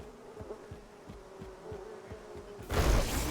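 A swarm of bees buzzes steadily after a beehive is struck in a video game, with a dense, droning hum and faint rhythmic thumps underneath, swelling louder near the end.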